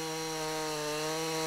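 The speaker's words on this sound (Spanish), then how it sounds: "el carpintero opta por continuar con la motosierra trazando unos cortes paralelos hasta dejar unas láminas" Chainsaw cutting narrow parallel slices into timber while a carpenter rebuilds a traditional fulling mill, a steady loud whining engine drone held evenly throughout, no voices.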